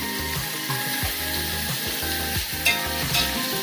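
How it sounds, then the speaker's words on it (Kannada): Fenugreek leaves fry and get stirred in a pan while cooking chicken liver and gizzard rice, a steady sizzle with occasional scraping stirs and a sharp clink near the end, no voices. "ಇದನ್ನು 1-2 ನಿಮಿಷ ಫ್ರೈ ಮಾಡ್ಕೊಳ್ಳಿ"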